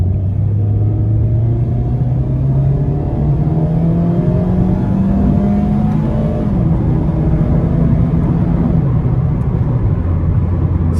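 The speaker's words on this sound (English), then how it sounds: "we're gonna give it some throttle here" A 2023 Mazda MX-5 Miata RF Grand Touring engine pulls under throttle, its steady rising drone climbing in pitch through several seconds, dropping briefly at a shift, then building again, heard from inside the cabin with no talking.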